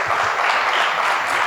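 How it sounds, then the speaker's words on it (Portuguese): Dense, steady applause from an audience at a public talk, a continuous wash of many clapping hands without a break. "Senhoras e senhores, palmas para o Paulo."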